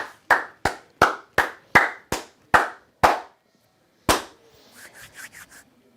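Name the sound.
golf clap, slow light hand clapping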